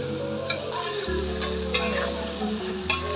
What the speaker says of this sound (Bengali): ঘষে রাখা পেঁয়াজ আছে সেটাকেও ভেজে নিচ্ছি